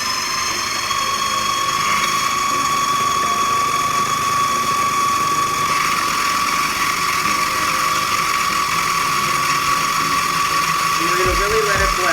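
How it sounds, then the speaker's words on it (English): A kitchen blender whirs continuously at high speed, puréeing sofrito with a splash of water and a few drops of oil, loud and steady throughout, with a voice speaking over it. "Really let it blend."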